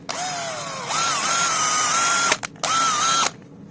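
A Makita DF333 cordless drill runs on test in loud, steady bursts, its motor whine rising in pitch after a brief start, cutting out for a moment, then running again before stopping.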